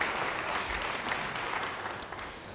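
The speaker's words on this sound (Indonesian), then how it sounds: "Yang percaya beri tepuk tangan bagi dia." A church congregation applauds at a sermon service, a steady, dense patter of many clapping hands that holds at an even level throughout.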